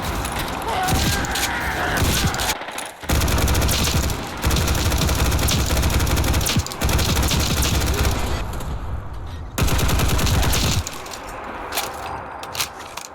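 Fallout 4 gameplay with Combined Arms mod weapons: loud, dense bursts of automatic gunfire and sharp shots in close succession, broken by brief pauses, with speech faintly mixed in.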